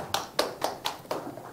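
A small group of people clap to welcome a teacher at a church youth service: about five sharp, separate claps in a loose rhythm, close by, with no talk over them.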